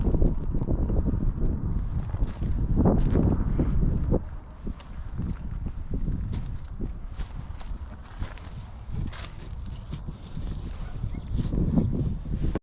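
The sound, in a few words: strong wind at RV campsite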